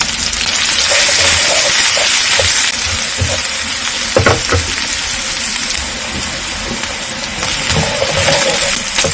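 Onions frying with garlic and ginger paste in a pan, a steady broadband sizzle with scattered clinks and scraping stirs, close and fairly loud throughout.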